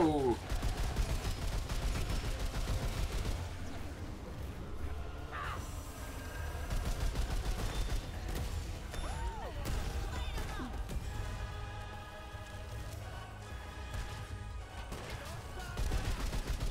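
Turret gunfire in the video game Remnant 2 rattles on throughout, dense overlapping shots and impacts mixed with game effects, while a player talks over the action.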